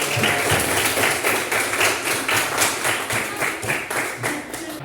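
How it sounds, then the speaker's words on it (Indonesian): A class of eighth-grade students claps together in a rhythmic, roughly unison beat, with loud, close, regular pulses that slow and thin out slightly toward the end. "Tepuk tangan untuk kelas 8."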